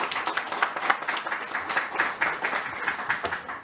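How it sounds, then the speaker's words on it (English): An audience at a news conference about a vaccination site claps steadily, a dense, even patter of applause from a moderately sized crowd lasting the whole stretch. "Let's give Kim Minkle a round of applause"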